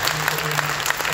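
Steady applause from a crowd, a dense patter of many hands clapping, filling the whole short moment.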